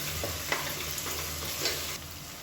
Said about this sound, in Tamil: இது எல்லாமே நல்லா பொரியுது